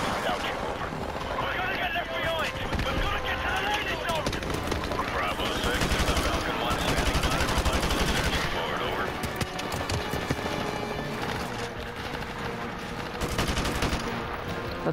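Rapid automatic gunfire and scattered shots from Call of Duty 4 Remastered crackle steadily through a busy battle mix, with a player's voice talking over the shooting.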